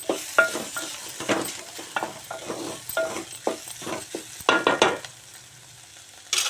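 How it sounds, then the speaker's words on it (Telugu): Beans curry simmering in a pan while a spoon stirs it, with repeated scraping knocks and clinks over a soft bubbling sizzle, then a quieter stretch of simmering near the end. "మధ్య మధ్యలో కలుపుతూ ఉండాలి కర్రీ ఇలా ఉడుకుతుంది ఇంకా ఉడకాలి"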